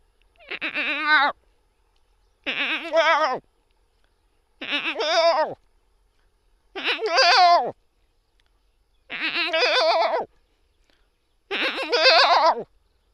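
A human voice mimics a goat's bleat, six separate wavering bleats spaced evenly with short silences between, loud and close, with no other sound.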